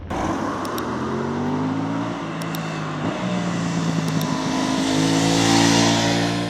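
An Aprilia RS 660 sports bike from 2020 revs its engine up and down in a steady, continuous drone that climbs and dips in pitch, loud and close with no talking.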